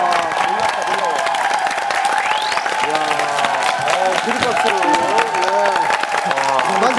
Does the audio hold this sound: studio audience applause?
yes